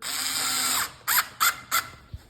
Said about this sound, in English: take my drill right there